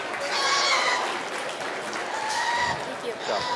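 Audience applause rings out at a market swine judging show at a state fair, a steady wash of clapping across the arena with a voice speaking over it.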